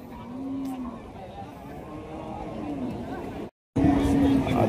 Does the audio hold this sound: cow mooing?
yes